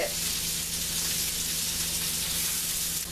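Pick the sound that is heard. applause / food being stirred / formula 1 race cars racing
food being stirred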